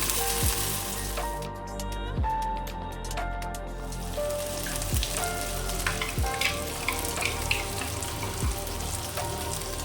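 Tomato goes into a hot pan with ground ginger, dried chilli and garlic paste, sizzling steadily and loudly throughout, with scraping stir strokes and clinks of a spoon against the pan, no one talking.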